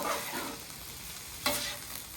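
Pasta frying on a griddle, with soft sizzling and a few scraping stirs, a brief louder scrape midway, quiet and close.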